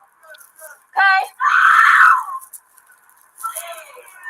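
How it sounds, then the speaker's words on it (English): A girl screams loudly in two sharp bursts, a short one followed by a longer shrill wail, then a fainter cry trails off. "Oh God, the screeching from the girl."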